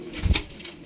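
A single short coo from a Ferozpuri pigeon, brief and fairly close, alone with no talk.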